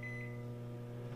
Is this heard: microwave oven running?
yes